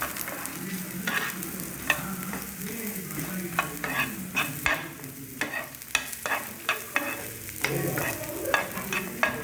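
Byadgi dried chillies fried in oil for chutney, a close continuous sizzle broken by brisk, repeated scraping stirs of a spoon in the pan.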